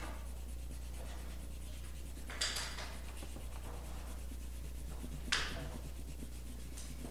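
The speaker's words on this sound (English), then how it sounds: "Next, you're going to erase it, but only erase it a little bit so you can see it." An eraser rubs over pencil lines on paper, producing a continuous soft scrubbing close to the listener, with two brief louder swipes.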